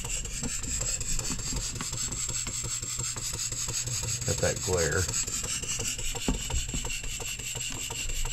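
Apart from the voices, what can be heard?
Stuart beam engine running on compressed air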